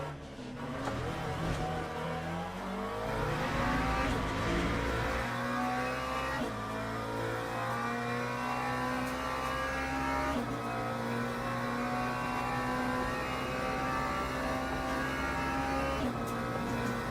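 GT3 race car engines in the racing game Le Mans Ultimate drone and rev steadily, with a pack of cars roaring continuously, gear shifts marked by shifting pitch, loud and sustained throughout without pause.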